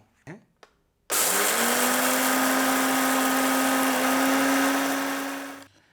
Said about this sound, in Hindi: मैं आपको इस इन्वर्टर पर ये 1200 वाट का मिक्सर ग्राइंडर चलाकर दिखाता हूँ